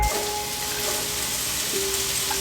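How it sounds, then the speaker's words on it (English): Diced onion and diced ham fry in a preheated pan, a continuous close sizzle with a soft crackling texture and a faint brief tone, no voices. "Starting off in our preheated pan, we're gonna put diced onion and diced ham."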